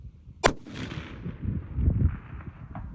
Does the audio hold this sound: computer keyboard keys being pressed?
no